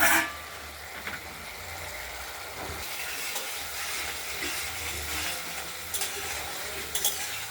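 Masala sautéing in a pan for a paneer, potato and tomato curry: a close, steady sizzle with occasional soft stirring scrapes and a few light clinks, fairly quiet and unbroken by talk.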